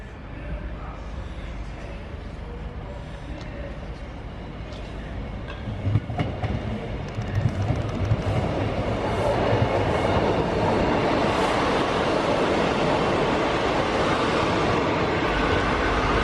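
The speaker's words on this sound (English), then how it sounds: "Little 2-car unit coming in, going to Newark Castle." A two-car diesel train unit rumbles in and grows steadily louder, wheels clattering on the rails as it draws near, with a brief voice early on.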